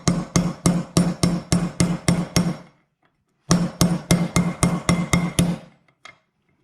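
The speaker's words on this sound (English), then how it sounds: "I'll use a 26 mil socket and just tap it back so until it sets to the case" A clutch bearing being tapped into a clutch case with a 26 mm socket and hammer: two runs of about nine sharp, evenly spaced metallic knocks each, heard up close, separated by a short pause, with one final light tap.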